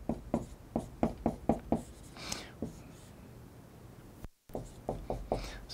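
Marker or chalk strokes drawing a chemical structure for a lesson on reducing ketones and aldehydes, a quick run of short taps and scrapes, a brief pause, then more strokes, close, under faint whispered talk.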